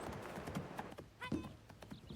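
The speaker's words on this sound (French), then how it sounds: "Elle essaie de soumettre ce cheval." Faint hoofbeats and scuffs from a horse being run and worked to submit it, heard as scattered, uneven thuds at a moderate distance, with a brief snort-like burst midway.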